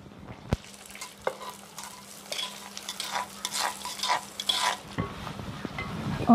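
Goat intestines tossed into a pan of fried onions sizzle steadily while a spoon stirs and scrapes, with a sharp clank near the start and busier stirring clatter later, close up and without talk.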